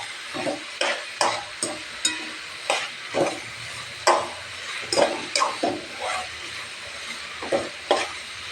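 Onions and tomato frying in hot oil with cinnamon, stirred with a spatula in a pan, making a steady soft sizzle broken by regular scraping strokes, close and clear with no talk.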